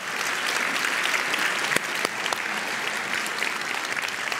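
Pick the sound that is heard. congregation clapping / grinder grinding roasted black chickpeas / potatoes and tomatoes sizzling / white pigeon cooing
congregation clapping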